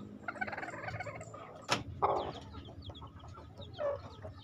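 A brooding hen clucks and murmurs softly at close range, with a brief rustle and scattered low chicken calls through a quiet background.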